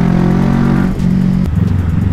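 A 2019 Kawasaki 1000cc motorcycle engine revs loudly and close up with light throttle, a steady deep idle rumble swelling and dipping through brief blips.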